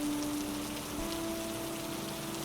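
Steady rain falls in an even hiss without pause, a constant wash of drops on surfaces with a faint low hum running through it.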